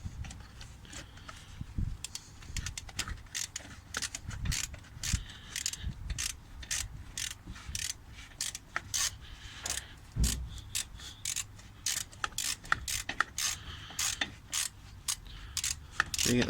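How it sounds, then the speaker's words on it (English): A ratchet tightens brake bolts on a VW Lupo, giving bursts of rapid, sharp metallic clicks in uneven runs, close and fairly quiet, with small clanks of tools between strokes. "now I'm going to tighten these bolts back up"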